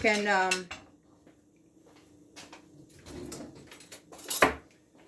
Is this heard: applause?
no